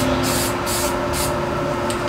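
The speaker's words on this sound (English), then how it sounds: "So I've never sprayed with Flex Seal before." Short test bursts from a Flex Seal spray can aimed at a guitar finish: three quick close hisses in an even rhythm, then a brief fourth puff, over a steady background hum.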